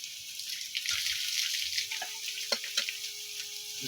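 Ground spices, including turmeric, are tipped into a hot pan of oil and give a faint, soft sizzling hiss with a few light taps and clinks close by, without any talking.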